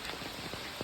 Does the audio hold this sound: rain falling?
yes